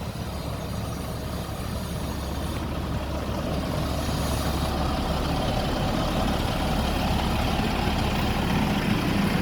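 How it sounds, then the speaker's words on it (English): A garbage truck engine idles on a north side street in Belize City. The deep, steady rumble runs continuously at moderate loudness, with no speech over it. "And coming right up, garbage truck."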